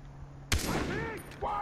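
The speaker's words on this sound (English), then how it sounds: "No, I shot him!" A single sharp gunshot cracks out in a Far Cry 3 firefight, standing out against the quieter game audio around it, with a softer thump following about a second later.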